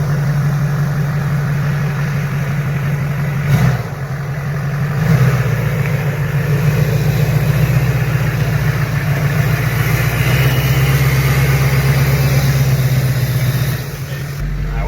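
A rebuilt Duramax diesel pickup truck drives slowly up a driveway at night, its engine giving a steady low hum and drone from inside the cab, loud and continuous with faint shifts in pitch.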